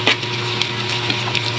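Fish and dried anchovies sauté in oil in a frying pan, giving a steady close sizzle with occasional scrapes and light knocks from stirring.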